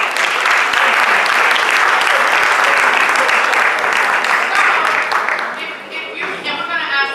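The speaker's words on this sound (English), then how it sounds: "Give Doug another round of applause." A town hall audience gives a full round of applause, loud steady clapping from a crowd that tapers off toward the end as a voice begins speaking.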